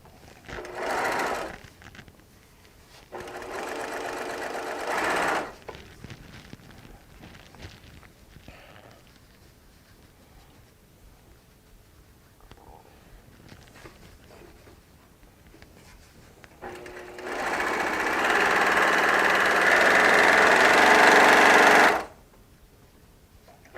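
Sewing machine stitching a quilt made from charm squares and strips, running in three bursts: two short runs early, then a longer steady whir of several seconds near the end, with quiet handling sounds in the gaps.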